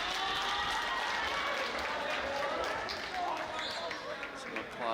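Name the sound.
applause on the Raiders bench at a basketball game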